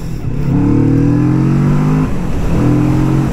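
Kawasaki Vulcan S motorcycle accelerating hard on a test ride, a loud close engine drone rising in pitch through two gears with a brief dip at the shift, under heavy wind noise.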